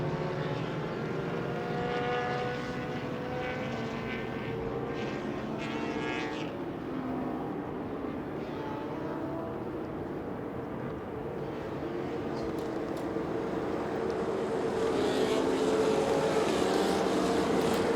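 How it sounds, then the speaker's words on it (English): Historic Formula Junior single-seater racing cars circulate at Silverstone, a steady, broad engine drone from several cars, with harmonic tones drifting as they pass and the sound swelling toward the end. "we are underway with the historic Formula Juniors"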